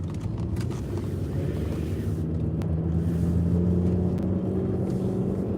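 A car being driven, heard from inside the cabin as a steady low engine and road rumble, fairly loud and continuous, with no talk over it.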